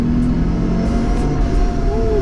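A supercharged 2021 Jeep Gladiator Mojave Edition with a smaller pulley pulls hard, its engine droning loud and close with a rising whine climbing in pitch toward the end.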